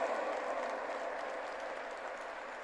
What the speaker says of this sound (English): give a big round of applause to His Excellency, the Honorable Governor of the State of West Bengal